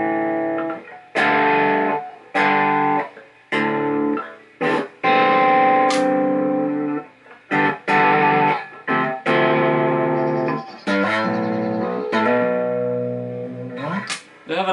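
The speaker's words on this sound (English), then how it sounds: "they have a nice kind of jangly quality about them, and they're quite clear, actually, especially for clean tones, as you just heard there" A Cort EVL-7 seven-string electric guitar on a clean tone plays loud, bright, jangly chords and single notes, each ringing out before being cut short by gaps, heard alone.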